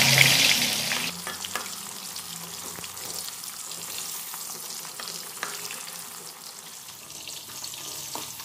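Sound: frying jengkol in a pan

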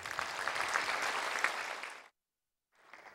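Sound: applause for the lecturers

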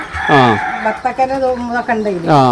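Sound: native chickens clucking

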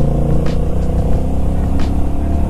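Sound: Honda Rebel 1100 automatic motorcycle engine revving under throttle

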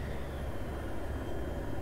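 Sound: helicopter in video game Battlefield 3

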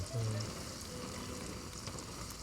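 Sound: eggs frying in oil

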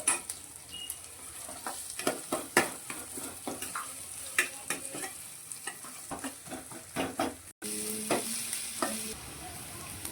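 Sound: onions frying in a pan

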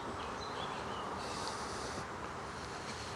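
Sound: honeybees buzzing during hive inspection

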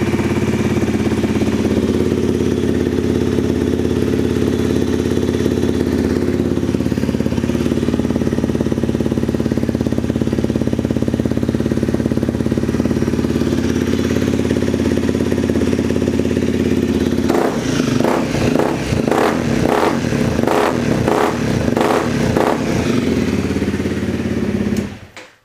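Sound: motorcycle engine running with aftermarket exhaust

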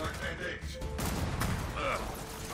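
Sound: gunfire in the video game Gears of War 4

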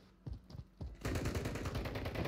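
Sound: gunfire in a video game (Call of Duty Plunder)

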